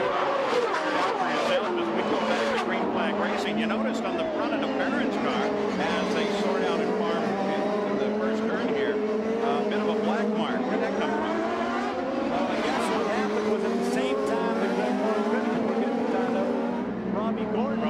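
Indy race cars roar around the 1996 Long Beach street circuit under green flag racing, a continuous loud engine drone with overlapping cars, while commentators talk over it throughout.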